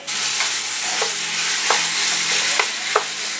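Ground beef browns in a pan for chili, a loud continuous sizzle with several sharp spatula scrapes and taps spaced through it, no voices.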